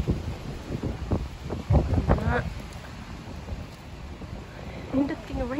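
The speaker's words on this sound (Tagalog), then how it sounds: "Patay ka kusog sa hangin." Strong gusty wind buffets the microphone outdoors on a rainy day, a rumbling low roar under close voices speaking in a Philippine language, rising and easing in bursts.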